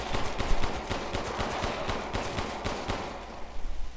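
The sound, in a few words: pistol shots in video game Resident Evil Village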